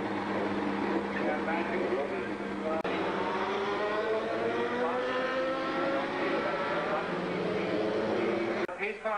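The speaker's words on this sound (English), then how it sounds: "The pace car has pulled into the pit lane as the cars come around." Race cars circle the track behind the pace car at a 1990 sports prototype race in Montreal, Canada, a continuous loud engine drone with shifting pitch as cars pass, joined at times by a commentator.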